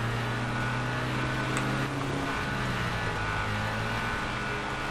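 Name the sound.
car engine sputtering in video game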